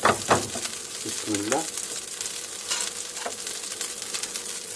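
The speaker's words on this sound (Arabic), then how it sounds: "أبدأ أسيح الزبدة" Butter melting and sizzling in a pan for a light Ramadan suhoor, with a steady frying hiss and a few sharp stirring clicks, while someone speaks briefly at the start.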